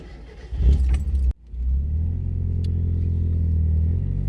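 Keys jangle, then the 1.8-liter engine of a 1994 NA Mazda Miata turns over and settles into a steady, low idle rumble close by.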